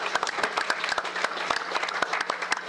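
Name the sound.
audience applause at a live show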